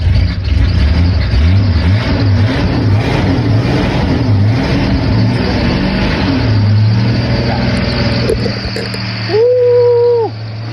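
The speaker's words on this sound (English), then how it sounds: "that belt's squeaking because it hasn't been powered up in a while" A 1982 Jeep Wagoneer Laredo engine revs loudly after a cold start, its steady rumble rising and falling, with a high squealing belt chirp emerging near the end.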